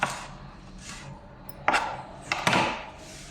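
A knife chopping eggplant on a board for a Telugu brinjal and raw mango curry, with a few sharp, separate cuts spaced unevenly over a soft room background.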